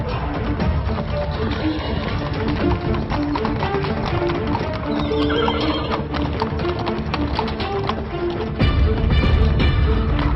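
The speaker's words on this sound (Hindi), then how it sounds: "घोड़े भाग रहे हैं, जल्दी करो, पकड़ो इन्हें।" A herd of horses gallops past with dense, continuous hoofbeats and repeated whinnies, loud and close, growing heavier toward the end, with a voice faintly mixed in.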